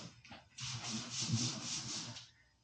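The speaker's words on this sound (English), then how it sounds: "I will keep sanding." Hand sanding on the wooden door of a 100-year-old cupboard, a soft close abrasive rasp that starts with a few short strokes and then settles into one steady, continuous rubbing pass.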